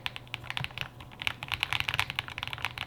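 Rapid, steady typing on a real wooden keyboard with RGB lighting, crisp close-up key clicks in an irregular stream, alone with no talk.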